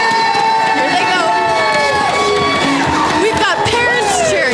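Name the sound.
parents and teachers cheering at a school fun run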